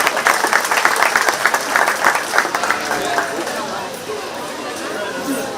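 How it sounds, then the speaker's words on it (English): A crowd at a 4-H/FFA sheep show at the Shelby County Fair claps for young exhibitors, loud and brisk at first, then fading into murmured chatter and nearby talk. "Let's give both of those young kids a big round of applause."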